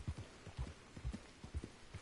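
Rhythmic hoofbeats of a horse galloping in Red Dead Redemption 2, a steady quick clip-clop pattern, fairly quiet and close.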